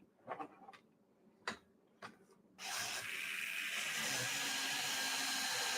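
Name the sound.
sanding tires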